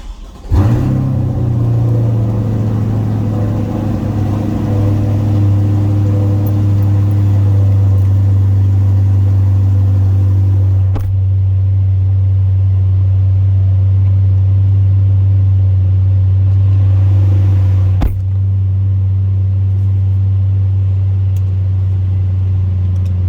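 A Chevrolet C8 Corvette fires up with a sharp bark in loud exhaust mode, then settles into a deep, steady, booming idle that fills the space close by, with a couple of brief clicks over it.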